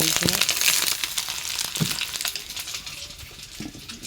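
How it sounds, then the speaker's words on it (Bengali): An egg fries in a pan with a soft, crackling sizzle and a few scraping spatula touches, fairly close and moderate in level, with no talking. "এই ডিমটা অন্য করে আমি ভেজে নিচ্ছি"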